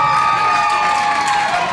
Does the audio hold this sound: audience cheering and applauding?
yes